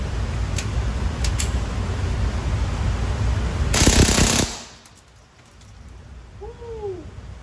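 A Taurus TX22 rimfire pistol with an FRT trigger fires Mini-Mag ammunition in a fast burst of sharp shots about halfway through, after a few isolated clicks, then the scene falls quiet.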